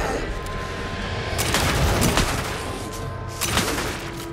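Gunfire in the video game Alan Wake II, a few loud sharp shots in two bursts with echoing tails over a rumbling background, at close range.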